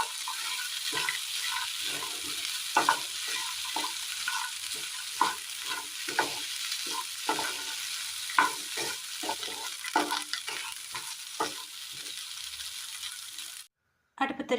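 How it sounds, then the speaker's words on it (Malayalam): Fried beef is stirred into green banana frying in a pan, with a steady soft sizzle broken by repeated scraping stirs at an uneven rhythm, close and moderately quiet, cutting off abruptly near the end. "ഫ്രൈ ചെയ്ത് വെച്ചിരിക്കുന്ന ബീഫ് കൂടി ചേർത്ത് കൊടുക്കാം"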